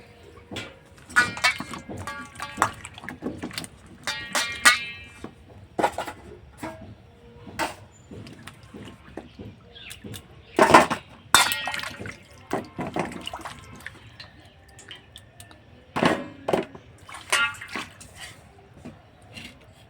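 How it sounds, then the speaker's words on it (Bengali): Peeled carrots being rinsed by hand in water, with intermittent splashes and sloshing bursts in a quiet kitchen, separated by short pauses. "গাজরগুলো সব আমি ছাড়িয়ে নিয়েছি তো এবার আমি ভালো করে একটু ধুয়ে নেব"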